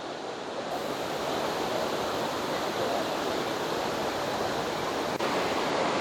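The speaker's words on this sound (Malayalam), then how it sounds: "അപ്പോൾ ഇതാണ് നമ്മുടെ ഉറുമ്പിക്കരയിലെ വെള്ളച്ചാട്ടം." Urumbikkara waterfall on the Elamkadu route to Vagamon roars as a steady, dense rush of falling water, loud and unbroken, with no voices.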